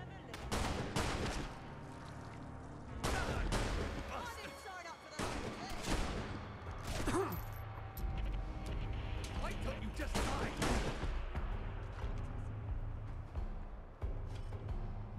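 Repeated bursts of gunfire in the Fallout London video game, sharp shots clustered in rapid volleys across the whole stretch, mixed with game ambience and a voice talking over it.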